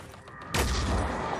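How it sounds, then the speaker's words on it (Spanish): Gunfire striking an aircraft in the video game Phoenix Point, a sudden loud burst of shooting that becomes a sustained roar of rapid fire and booms. "Ahí están disparando nuestra nave."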